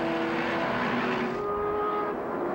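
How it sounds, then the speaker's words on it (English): Race cars including a Pontiac Firebird and a Ford Mustang at speed at Watkins Glen in 1999 Motorola Cup racing, a steady loud engine roar with pitch shifting as they pass, no talk. "The 11 Sunoco Firebird of Devin Powell looks to the inside of the Zippo Ford Mustang"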